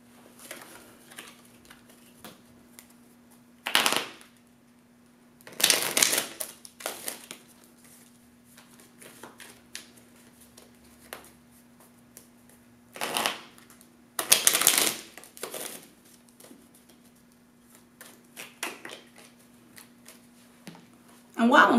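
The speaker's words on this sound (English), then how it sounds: "And while I'm shuffling the cards" A deck of tarot-style cards is shuffled in several separate bursts of crisp riffling and flapping, each a second or two long, with quiet pauses between them and a steady low electrical hum throughout.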